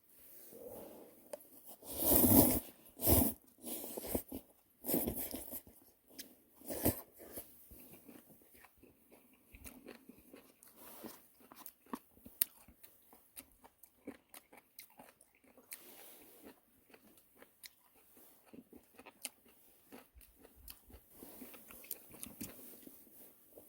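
Someone eating at a fishing outing on a lake, with loud close bites and crunches early on, then quieter intermittent chewing and small clicks, no talking.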